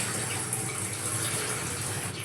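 Water runs steadily from a bathroom tap, a continuous even hiss and splash close by with no pauses or voices.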